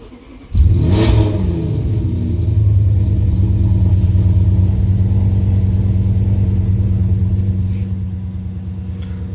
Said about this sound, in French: quand le véhicule démarre à froid, vous avez toujours le cold start et après le régime moteur il redescend tranquillement